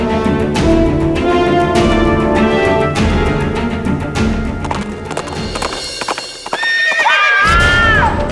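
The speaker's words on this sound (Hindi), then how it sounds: "हमने घोड़े के चलने की आवाज सुनी।" A horse's hooves clip-clop over a hard floor inside a mansion, followed by a loud whinny, all set against dramatic background music.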